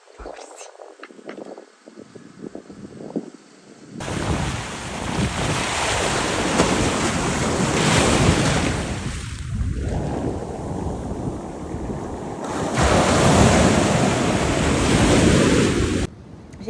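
Ocean surf rolls onto a beach in Yucatán, Mexico, loud and close with strong wind buffeting the microphone, after a few quieter seconds at the start.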